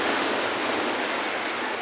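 Steady, dense rush of ocean waves breaking on the seashore at Jimalalud, Negros Oriental, Philippines, loud and continuous with no voices.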